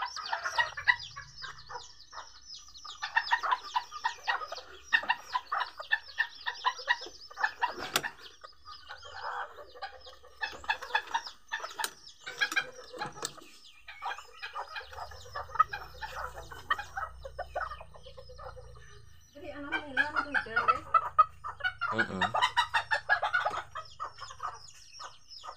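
Kate bantam chickens, including a black hen with newly hatched chicks, cluck and cheep almost nonstop at close range. Soft peeping and chatter run under sharper clucks, with a few louder squawks breaking in.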